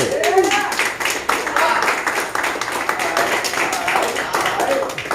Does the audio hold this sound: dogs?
no